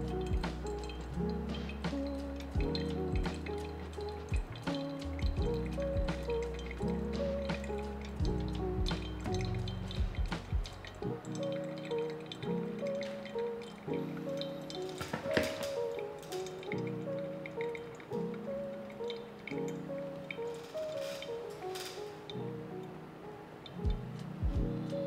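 Water dripping through coffee grounds during drawdown of a pour-over brew, soft steady drips over a low continuous background hum, faint and close.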